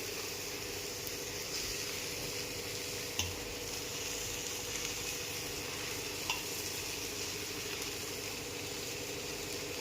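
Finely chopped capsicum sautés in a pan with tomato, a faint, even sizzle with occasional soft stirring taps, steady and fairly quiet throughout.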